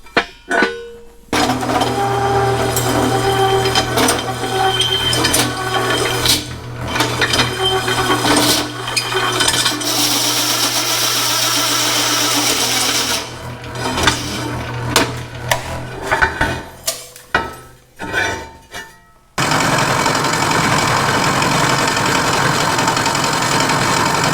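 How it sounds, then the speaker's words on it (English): A power drill whirs loudly and steadily for long stretches, close by, then stutters in short bursts as the motor stops and restarts. "drill some holes"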